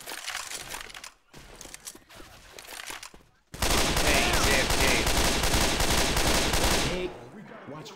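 Heavy gunfire in the video game Left 4 Dead, choppy bursts of automatic shooting at first, then a long, loud, sustained barrage that tapers off near the end.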